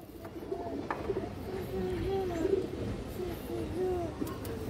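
Soft, repeated cooing of pigeons kept in a loft collection, several low throaty coos rising and falling in a quiet setting, with faint voices in the background.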